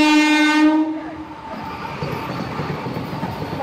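A Chennai AC EMU local train sounds a loud, steady horn for about a second, then rumbles past close by with rolling wheel noise and no talk.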